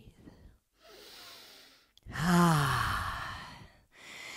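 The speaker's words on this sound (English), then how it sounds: "Let that cleansing motion and sound of your Ujjayi pranayama breath rinse clear any thoughts in your head not serving you" Slow, audible Ujjayi pranayama breaths during a vinyasa yoga flow: a soft inhale, then a long, loud, throaty exhale with a hoarse ocean-like rasp, close to the mic, followed by a short pause.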